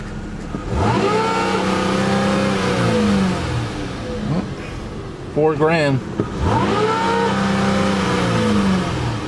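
Pushed to the floor, a car engine revs up in repeated long surges, climbing and falling, loud and close, with a short burst of speech between the runs.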